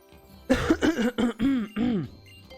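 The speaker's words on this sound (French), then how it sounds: "je tousse, c'est normal." A voice makes a string of short, harsh, pitched bursts, like coughing or throat clearing, loud and close, with brief pauses between.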